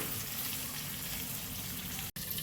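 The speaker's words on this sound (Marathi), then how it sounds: "असं ताट ठेवून त्या ताटावर असं पाणी टाकायचं असतं" Water is poured onto a plate set as a lid over stuffed brinjal cooking in a pan, giving a steady, even rushing hiss that cuts out abruptly for a moment near the end.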